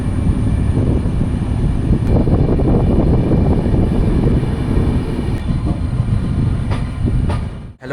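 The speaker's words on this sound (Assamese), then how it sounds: "গাইজ, ট্ৰেইন আহি গ'ল, এতিয়া যাব লাগে কলকাতা শিয়ালদা।" Gour Express 13154 passenger train running between Malda Town and Kolkata Sealdah, a loud, steady rumble of wheels and carriages held close and continuous, fading slightly at the end.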